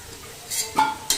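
Potato pieces in white oil in a wok give a soft frying hiss, broken by a few sharp scraping stirs of a utensil against the metal.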